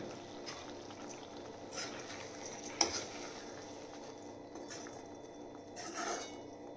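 Palak paneer stirred in a pan gives faint, soft scraping with a single sharp spoon clink midway, quiet and close with no voices.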